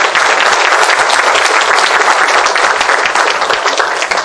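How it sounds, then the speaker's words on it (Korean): A lecture hall audience gives loud, sustained applause to the author Han Seung-hoon at the close of a humanities lecture series talk; dense, continuous clapping from many hands, close and full, with no talking over it. "큰 박수로 부탁드리겠습니다"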